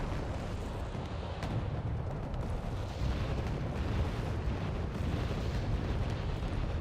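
Heavy artillery fire in the real-time strategy game Wargame: Red Dragon, a dense, continuous rumble of overlapping distant blasts and booms rolling steadily through the whole stretch with no letup.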